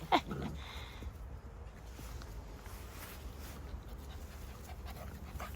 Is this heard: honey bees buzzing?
no